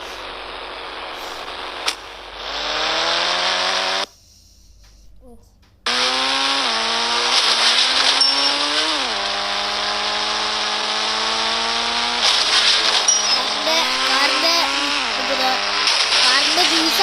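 A car engine in the Indian Bike Driving 3D video game buzzes loudly and steadily, its pitch climbing and dropping with each rev. It cuts out briefly partway through, then roars back.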